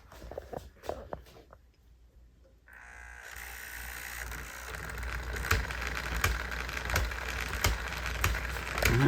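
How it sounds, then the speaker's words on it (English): A bargain model steam train with a gear problem starts running after a few taps, its grinding, clicking mechanism rising into a steady, fairly loud mechanical whir with irregular knocks. "Looks like we have a gear problem."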